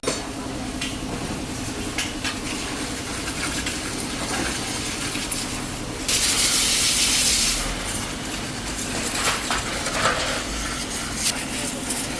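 A loud broadband hiss of a pressure washer spraying a flood-damaged vehicle, steady throughout with a harsher, louder burst in the middle, over a low machine rumble.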